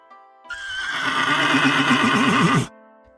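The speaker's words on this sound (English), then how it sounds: "the graceful horse" A horse gives one loud, close whinny lasting about two seconds, with a quavering, wavering pitch toward the end, heard alone against quiet background music.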